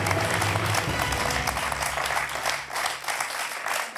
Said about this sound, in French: Geneviève applaudit